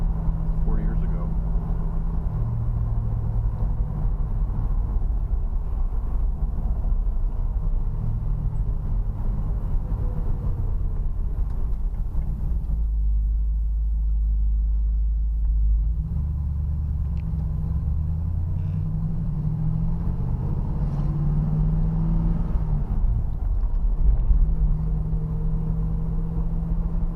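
A 1969 Pontiac Firebird with an upgraded shifter drives along, its engine a low, steady rumble from inside the car. The engine note dips and rises through gear changes, and a person talks over the drone.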